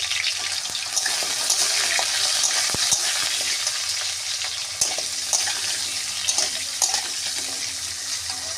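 Steady loud sizzling of potatoes frying in a pan, with occasional clinks and stirring scrapes throughout.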